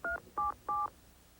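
Telephone keypad dialing tones, three short evenly spaced electronic beeps of dual pitch in quick succession, clear and alone.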